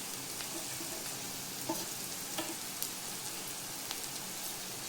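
Onion frying in a pan with salt and turmeric for a village-style yellow potato curry, a soft, even sizzle with a few faint stirring ticks, fairly quiet and with no voices.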